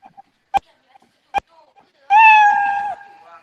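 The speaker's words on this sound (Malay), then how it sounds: "Ini sound miau. Sekarang you orang boleh dengar sekarang." A recorded cat meow played back in an audio editing program: a single clear, drawn-out meow near the end, preceded by a few sharp clicks in otherwise quiet surroundings.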